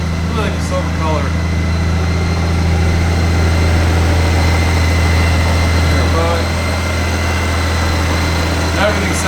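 A 2013 Honda Goldwing motorcycle engine idles steadily and smoothly close by, a constant low hum running throughout, while someone talks over it.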